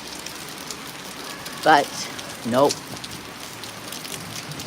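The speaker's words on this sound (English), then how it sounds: "Is this midnight in Paris rain?" Steady rain patters on surfaces outdoors in Paris, a constant hiss throughout, while a person speaks briefly twice over it.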